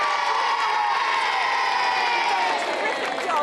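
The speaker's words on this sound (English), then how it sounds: "I think you should give yourself a huge cheer" Crowd at a lighthouse party on a 1990 British television challenge show cheering and whooping, a loud sustained roar of many voices including children's shouts and some clapping, steady throughout.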